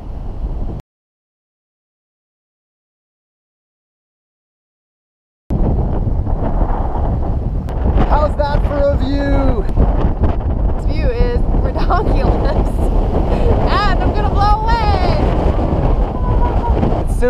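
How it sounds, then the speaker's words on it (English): Strong gusty wind buffets the microphone in a heavy low roar after a brief silence, with voices talking underneath, at a backpacking camp near a saddle in West Virginia. "But it is windy, windy, wow. Windy. You can hear it, right?"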